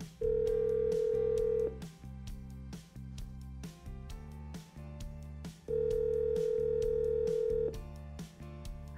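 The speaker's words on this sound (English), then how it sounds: "So now it's dialing through the SIP interface." A phone call placed through a SIP interface on a conference bridge rings out with two long, steady ringback tones separated by a pause, over faint rhythmic background music.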